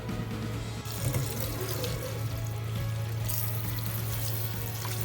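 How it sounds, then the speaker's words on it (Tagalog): Cooked pasta tipped into a strainer in a kitchen sink and rinsed under running tap water, a steady loud rush of water throughout with a brief splash early on. "Ibubuhos ko na po yung pasta dun sa ating strainer sa lababo. Para po mabanlawan natin ng tubig."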